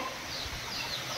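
Desi free-range chickens on a farm, with soft scattered clucks over a steady background hiss; the birds sound fairly faint and distant throughout.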